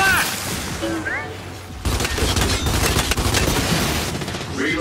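Gears 5 gunfire: after a brief stretch of voices, a loud, dense burst of rapid shots and blasts kicks in abruptly and keeps pounding to the end, with speech faintly mixed in.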